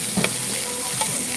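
Pork belly sizzling on a grill at a wood-fired gas-drum stove restaurant, a close, steady hiss with two short scraping stirs.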